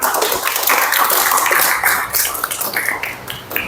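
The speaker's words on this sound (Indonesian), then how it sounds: "Tepuk tangan." A class of students bursts into dense, sustained applause after a vocational lesson on diagnosing brake-system faults. The clapping is loud and continuous throughout, with no speech.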